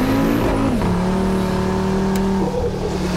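An Audi RS3 drives on snow, its exhaust giving a loud, close, steady engine drone that shifts pitch briefly as revs change, with no talking.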